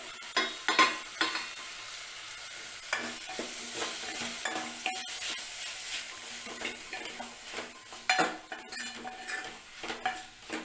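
Tomatoes, onion and garlic sizzle in a pan while a utensil stirs and scrapes, with irregular clinks of metal against the pan and a steady frying hiss underneath, close and fairly quiet with no talking.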